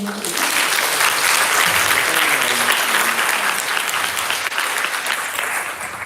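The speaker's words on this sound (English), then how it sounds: "Can we give them please a big round of applause to the whole room?" A packed symposium room breaks into a sustained round of applause at a veterinary student general assembly in Morocco, the dense clapping loud and steady for about six seconds before easing slightly.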